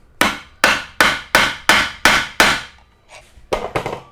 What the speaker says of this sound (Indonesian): Jadi kita pakai obeng, yang paling gampang pakai obeng, terus pakai palu,